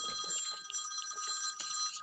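A video game telephone rings with a repeated electronic bell trill, heard alone at moderate volume without talk over it.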